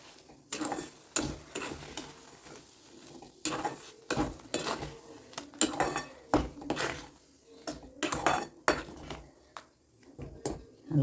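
Spoon scraping and clanking against a pan while stirring kesari with added sugar, with repeated uneven strokes close by and no talking.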